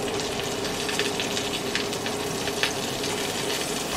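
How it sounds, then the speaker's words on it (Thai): Mushrooms stir-fried with chili in a hot pan for a vegetarian basil stir-fry: loud, steady oil sizzle throughout, with occasional scraping pops as the pan is stirred. "ผัดเห็ดให้พอสลบนะคะ"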